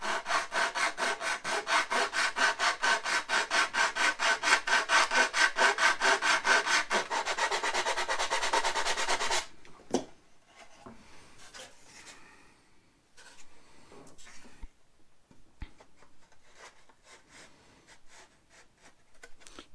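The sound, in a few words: sanding a wooden fit by hand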